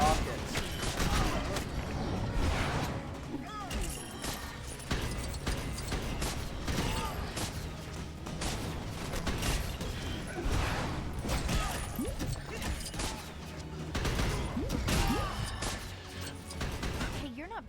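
Rockets fired by a mechanical suit in the Lego Marvel Avengers video game, repeated bursts of blasts and clanking mechanisms with crashes, dense and busy throughout, with a voice speaking at times.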